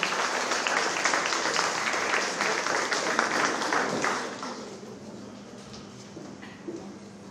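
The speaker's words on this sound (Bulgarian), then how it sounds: "Аплодисменти за него!" An audience claps steadily at a children's award ceremony, dense and even for about four seconds before thinning into a quieter room tone.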